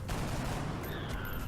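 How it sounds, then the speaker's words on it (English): Base cannon fire in the XCOM video game: a dense, roaring barrage of blasts and rumble that runs continuously through the moment, loud and close with no talking over it. "Power up the base cannon. Fire."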